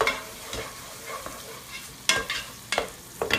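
Butter sizzles in a hot pan with a soft steady crackle, broken by a few sharper bursts of stirring and clatter up close.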